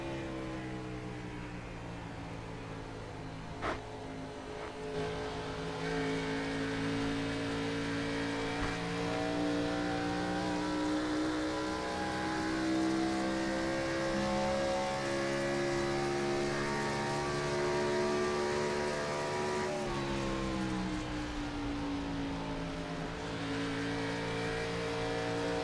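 Race cars circle the Pocono track in a racing video game, engines droning in a steady layered whine that holds for the whole stretch, with pitch shifts as the cars pass and accelerate.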